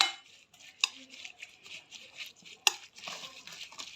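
A spoon stirs a fish marinade of lemon juice, vinegar and celery in a bowl, giving soft wet scraping with two sharp clinks against the dish.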